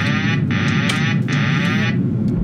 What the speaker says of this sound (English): that sound you just heard in the flight deck is the autopilot disconnect sound.